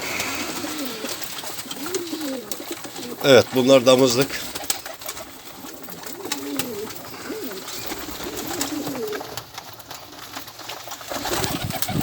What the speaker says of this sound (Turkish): Burada 200'ün üzerinde kuş var abi.